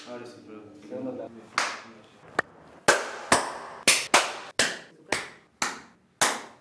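A studio group claps in unison after brief talk, producing about eight sharp, evenly spaced slaps whose echoes trail off quickly. The claps are loud and close, with only a faint stray voice between them.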